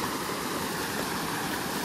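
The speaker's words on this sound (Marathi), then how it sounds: "यो बघा आमचं धबधबो." A small monsoon waterfall in a rocky stream, not yet in full flow, roars in a steady, dense wash of falling water, close and loud with no pauses or voices.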